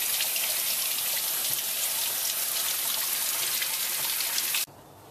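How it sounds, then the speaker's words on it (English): Running tap water pours steadily over brined bacon slabs being rinsed in a sink, a constant hiss and splash that cuts off abruptly near the end. "Now we're just going to rinse it off real good with water to get all this brine off"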